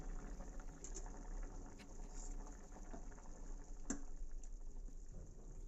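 Eggplant tamarind stew (vankaya pulusu) boiling in a pot, a faint steady bubbling and soft popping with occasional small clicks, with no talking.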